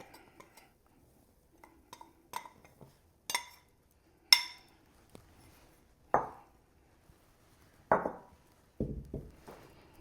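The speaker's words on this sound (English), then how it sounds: "And then I use a spoon to stir it in because sometimes the batter gets caught up in the whisk." A spoon stirs pancake batter in a bowl: soft scattered clinks and scrapes against the bowl, several sharper taps in an irregular rhythm, close and quiet, with no talking.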